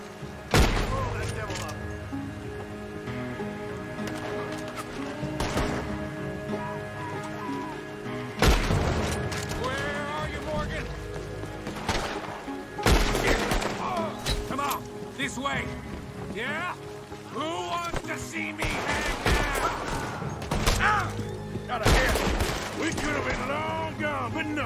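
Gunfire tearing through a town in Red Dead Redemption 2: loud, sharp shots in clusters over a constant rain-like hiss, with game voices and effects in between.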